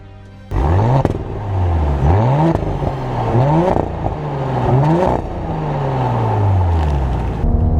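A 2017 Audi S5 V6 engine revving hard through its high RPM range, loud and close from inside the car, rising repeatedly with quick gear-shift dips and a crackling exhaust note.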